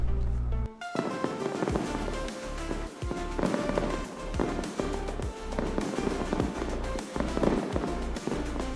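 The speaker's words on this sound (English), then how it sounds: "to enjoy a fireworks show for St. Paddy's Day, just off the water" Fireworks bursting over the water for a St. Paddy's Day show, a steady run of loud booms and crackling pops following one another with hardly a pause.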